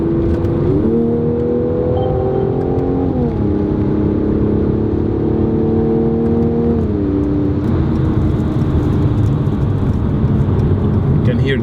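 A 2018 Mercedes-AMG C43 coupe with 4MATIC drives through curves, its engine and exhaust droning loudly and steadily while revs rise and fall with gear changes, with faint talk underneath.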